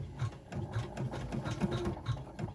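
A sewing machine stitches a snap tab on fabric, running steadily back and forth with a close, mechanical whir and rhythmic needle clatter.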